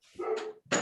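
House dogs give a short, close, sharp bark followed by a second quick bark, alone and fairly loud.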